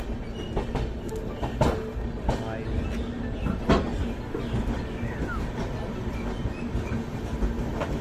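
ASR CSMT Express (11058) from Ludhiana to Delhi running on rails, a steady rumble with scattered clicks and rattles of the cars, heard from on board without talking.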